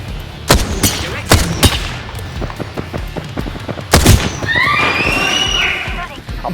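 Gunfire from enemies in the Apex Legends video game cracks in several loud, sharp bursts and single shots, close by, amid game sounds and a person talking over the action.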